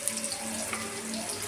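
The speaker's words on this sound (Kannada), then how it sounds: "ಈ ಎಣ್ಣೆ ಕಾಯ್ದಿದೆ. ಈಗ ಇದನ್ನೆಲ್ಲ ಎಣ್ಣೆಗೆ ಹಾಕ್ತಾಯಿದ್ದೀನಿ." Potatoes with the skin on hit hot oil in a home kitchen for aloo fry and set up a steady, loud hiss of frying that holds evenly throughout, with no voices.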